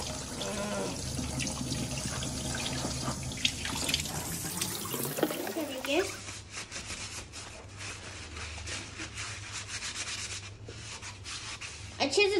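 Ash gourd being rinsed and rubbed under a running kitchen tap while preparing petha, a steady close stream of water over scrubbing sounds with no talking.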